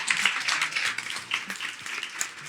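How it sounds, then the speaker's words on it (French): An audience claps in applause, a brisk, dense patter of many hands that stays fairly steady and moderately loud across the moment. "Merci de faire un tonnerre d'applaudissements pour Florian Hervéo de Startup Palace."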